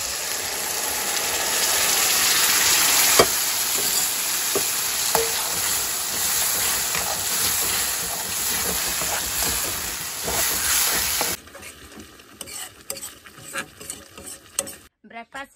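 Chopped onion with a little salt fries in hot oil in a kadhai, making a loud, continuous hiss with occasional clinks for about eleven seconds before it cuts to quieter, patchy kitchen sounds.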